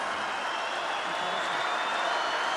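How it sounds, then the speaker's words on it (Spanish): An audience at the Quinta Vergara amphitheatre during the 2012 Viña del Mar festival applauds and cheers, a dense, steady wash of clapping and crowd noise that holds for the whole stretch with no speech over it. "Y así lo percibe la Quinta Vergara y por eso aplaude y por eso vitorea y se para a aplaudirte esta noche"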